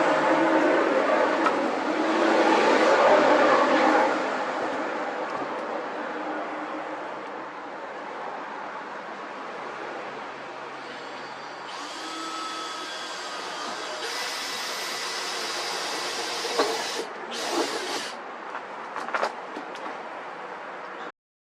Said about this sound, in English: I've drilled a hole in my van.